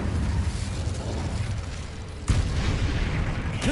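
An Incendio fire spell goes off in Hogwarts Legacy, a sudden booming whoosh about two seconds in that rises out of continuous loud game rumble and stays dense afterward.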